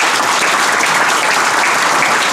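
An audience at a political convention in Toruń applauds, a dense, loud, steady wash of clapping from many hands that fills the whole moment without pause or speech.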